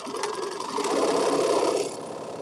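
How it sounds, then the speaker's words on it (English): A sewing machine backstitches a few stitches at the start of a seam on a quilt, running as a steady close mechanical whir for about two seconds with a slight rise in speed midway. "So I'm going to go in a little bit and back stitch on this first one so it don't get stuck down in the hole."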